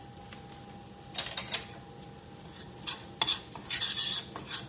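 Blackening spice and smoked paprika blooming in unsalted butter, a faint low sizzle broken by several bursts of clinking, scraping stirs against the pan.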